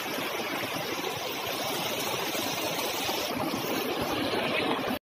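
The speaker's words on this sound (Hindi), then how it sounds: "इस पानी को आपने क्रॉस करना है काफ़ी ज़्यादा तेज़ ठंडे पानी का बहाव है" A fast, cold mountain stream on the Dudipatsar trek in the Naran Kaghan area rushes in a steady, dense roar, close and loud throughout with no voices, cutting off abruptly at the end.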